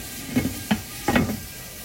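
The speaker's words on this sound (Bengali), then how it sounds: "মশলাটা কষা হতে থাক" Masala frying and being stirred in a covered pan over a medium flame, with a little water added; a few short scraping stir strokes rise over a soft steady sizzle, close by.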